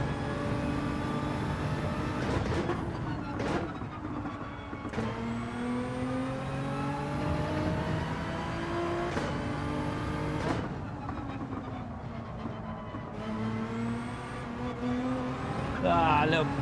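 In Gran Turismo 7, a race car engine revs and accelerates through gear changes on a flowing track, a loud continuous whine rising and falling in pitch while someone talks over it.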